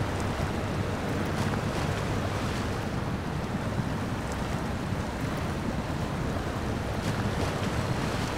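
A truck in SnowRunner ploughs through water with all-wheel drive engaged, giving a steady, loud broadband rush and churn of splashing that holds throughout without pause, close and continuous, with no voices.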